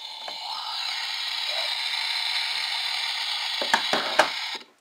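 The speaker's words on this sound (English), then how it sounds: "So the skillet makes a sizzling noise." Toy kitchen skillet set on a play stove, triggering a hissing electronic sizzle effect that runs steadily for several seconds, with a few light plastic clicks near the end.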